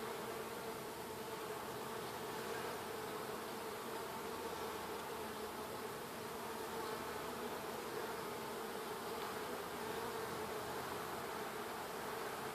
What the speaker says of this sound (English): There's some bees coming out, being born.